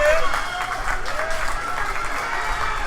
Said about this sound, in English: A lot of clapping.